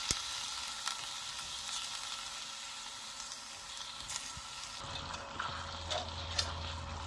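Frozen peas tipped into a pan of beans frying on the stove, with a steady close sizzle and a sharp clatter as they land, after which a louder crackle takes over.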